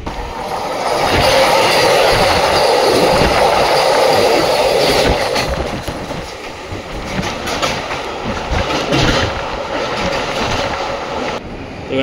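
A loud, steady rumble of a moving train heard from inside a carriage, with rattling wheels and clatter rolling on throughout.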